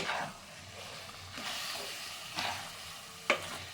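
Cornflour being stirred into a cooking jaggery mixture for amla candy, giving soft scraping strokes with a light sizzle, close by and fairly quiet, with one sharper clink near the end.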